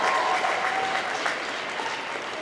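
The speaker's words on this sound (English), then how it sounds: "So give them a great round of applause." Audience applause for Lake Orion's undefeated boys basketball team, a steady dense wash of clapping from a large crowd that stays loud throughout and fades slightly toward the end.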